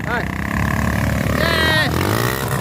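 Small motorcycle engine starting and revving at a motocross outing in Piauí, Brazil, rising and falling pitch up close, with people talking and shouting over it.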